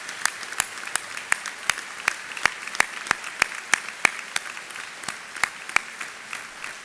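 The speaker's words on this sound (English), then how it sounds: "Let's give her a round of applause." At a university presidential inauguration ceremony, sharp claps ring out in an even, rhythmic beat, roughly three per second, clear and prominent against a quiet room for the whole stretch.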